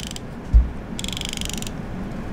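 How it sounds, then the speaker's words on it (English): Drag clicker on a 13 Fishing Concept A3 Gen 2 baitcasting reel, heard as a quiet, close, rapid ratcheting buzz in short bursts as the spool is pulled, following a single soft knock. "There's actually a drag clicker."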